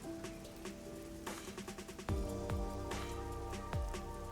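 Steady rain patters on surfaces in the neon-lit Kamasaki District of Kanai Ward in the game Master Detective Archives Rain Code, a continuous wash under scattered low thuds and clicks of game ambience.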